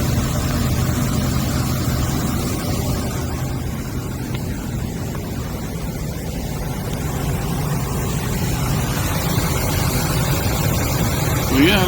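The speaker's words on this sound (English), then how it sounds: "this engine sounds just great. Look how smooth that thing is." Idling engine of a pickup truck carrying a camper, fitted with a 250-amp alternator, runs as a steady low rumble, even and smooth throughout, with faint wind noise on the microphone.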